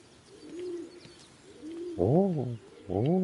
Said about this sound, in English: I got a pigeon